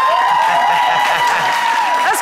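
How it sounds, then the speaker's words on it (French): A church audience applauds and cheers, with mothers shouting, a dense continuous clatter of clapping under sustained tonal singing or music throughout. "On applaudit le Seigneur."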